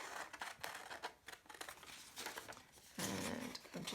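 Scissors snip through paper around a cut-out shape, a close, quiet series of irregular cutting strokes.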